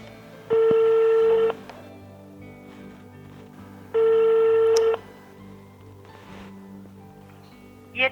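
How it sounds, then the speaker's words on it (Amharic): A phone call goes unanswered as two long, loud electronic ringback tones sound a few seconds apart, each steady and flat, over quiet room background. "የደወሉላቸው ደንበኛ ስልክ አይመልስም።"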